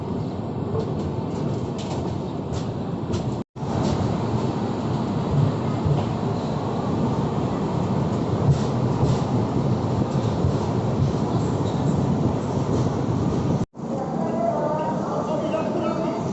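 Rajdhani Express train pulling into Ahmedabad railway station, a steady loud rumble of wheels and carriages rolling continuously with brief breaks, no voices over it.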